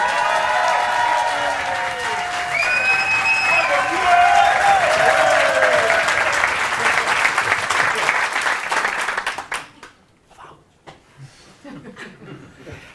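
A theatre audience at a French comedy show claps loudly and steadily, with some laughter and a voice calling out, before the applause cuts off abruptly into near quiet with a few faint sounds.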